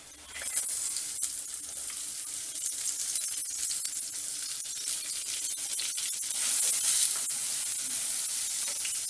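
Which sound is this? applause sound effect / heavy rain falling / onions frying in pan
onions frying in pan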